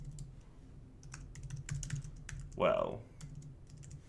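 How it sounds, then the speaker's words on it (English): Computer keyboard typing while filling in an assignment rubric, a quick irregular patter of key clicks that carries on under a brief spoken word. "Again, you could type more detailed stuff in here."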